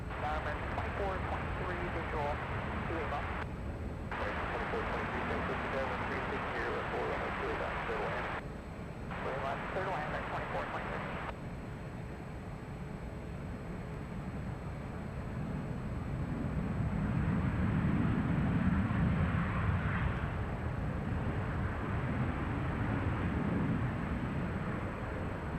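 An airliner on its second landing attempt, inbound from Phoenix, rumbles in the distance under steady outdoor wind noise, its low roar swelling in the latter half while a voice talks over it.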